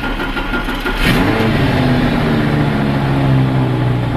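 An Audi R8 engine cold starts close by, first cranking and then catching about one second in, flaring up in revs and settling into a loud, steady, droning idle.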